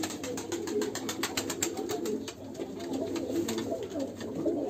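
Pigeons coo in a coop in a steady overlapping chorus, soft and continuous with faint rustling, no voices present.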